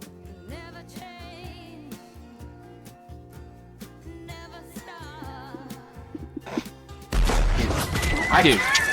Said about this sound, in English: That's a bard killing the horse outside.